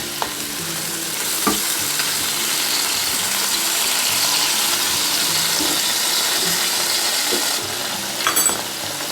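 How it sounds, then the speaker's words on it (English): Potatoes being flipped and stirred in a sizzling Ninja Foodi grill, a steady frying hiss with scraping and clattering of a utensil throughout, fairly close and with no talk. "Turn our tatties over as well."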